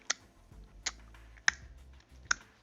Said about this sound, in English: Do you guys have a vent that just like makes a clicking noise like?